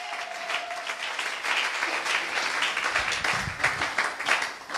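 A church congregation applauds and cheers loudly in steady, swelling waves of clapping that fill the hall, with no voice standing out.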